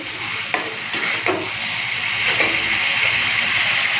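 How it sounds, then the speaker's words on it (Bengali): Chicken pieces and potatoes are stir-fried in a pan in oil, giving a steady loud sizzle with a few scraping stirs of a spoon throughout. "এখন আলুটা দিয়ে আর দু মিনিট কষে নিই"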